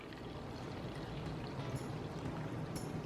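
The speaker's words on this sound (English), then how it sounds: "We're going to fill this thing up, 4 cups of apple juice." Apple juice, four cups, poured into a peppercorn-spiced brine for pork tenderloin makes a steady, continuous splashing stream that runs the whole time at moderate volume, with no talking.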